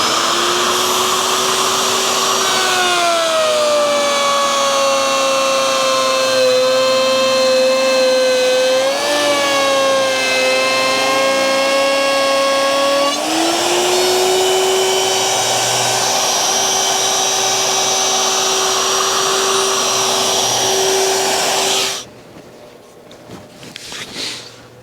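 A router cuts through a spalted sycamore bar panel, a loud, steady high-pitched whine whose pitch dips and shifts as the bit bites into the wood, then cuts off abruptly near the end, leaving a quiet rustle.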